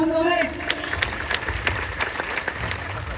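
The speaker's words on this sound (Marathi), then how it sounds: "मृदुंगासाठी टाळ्या होऊन जाऊ." An audience at a Shivaji Maharaj coronation celebration clapping for a mridang player, a dense burst of applause from many hands, moderately loud and sustained, following a short spoken line at the start.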